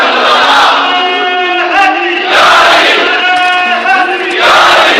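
A large crowd at a religious gathering marking Youm al-Badr chants slogans in loud, full-throated unison, in about three strong bursts separated by brief pauses.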